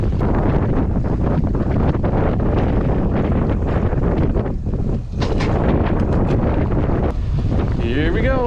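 Constant heavy wind buffeting the microphone while riding a Trek Domane AL 2 road bike, a loud low roar that barely lets up, with faint sounds breaking through briefly near the end.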